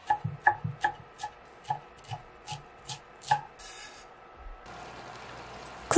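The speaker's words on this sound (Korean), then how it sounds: "파슬리 송송 썰어 넣을게요" A knife chopping fresh parsley on a cutting board, about ten crisp close taps in a fairly even rhythm, followed by a short rustle and a soft scrape.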